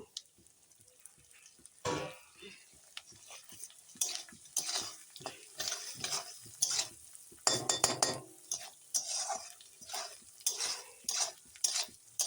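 Rice fried and stirred with whole cumin and bay leaves in a pan gives a steady sizzle broken by repeated scraping stirs of a utensil against metal, close and prominent throughout, with no talking.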